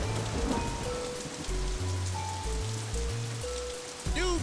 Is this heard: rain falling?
yes